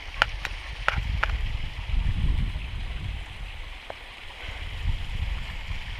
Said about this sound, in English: Another little set of falls along here.